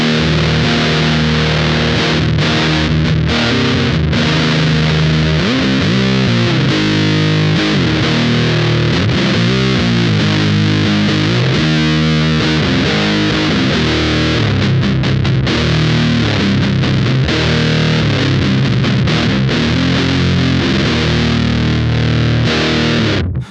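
Electric guitar played through a Minotaur Sonic Terrors Big Muff-style fuzz pedal with no clipping diodes, producing a thick, loud, saturated fuzz tone across sustained chords and riffs without any speaking.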